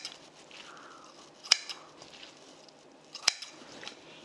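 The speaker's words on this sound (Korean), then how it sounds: "데쳐서 물기를 쪽 뺀 해파리를 너무 긴 거는 한번 가위로 그냥 슬쩍 잘라주세요" Kitchen scissors give two quick, crisp snips a couple of seconds apart through blanched, drained jellyfish for a cold jellyfish salad. The cuts are close and short, with quiet handling noise in between and no talk.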